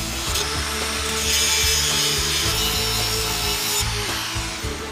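A power tool cutting through the steering column shift arms on a Plymouth Belvedere being prepared for a Hemi swap, a loud continuous grinding buzz held close throughout with slight pitch wavers and no speech.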